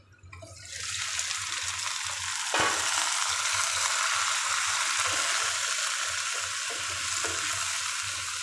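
Boiled vegetables drop into a pan of frying mustard greens, setting off a loud burst of sizzling that stays strong and steady, with a brief stirring clatter partway through.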